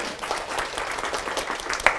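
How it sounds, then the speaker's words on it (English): An audience of mostly women at an International Women's Day presentation applauds themselves, a short, dense burst of mid-level clapping with no speech over it. "I think you should all give yourselves a round of applause."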